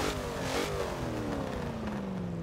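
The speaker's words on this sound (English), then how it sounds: "there's an issue with the freaking revving in this car" A car engine in Forza Motorsport 7 revs high and then drops in pitch as it shifts gears, a loud continuous whine that falls away over a couple of seconds.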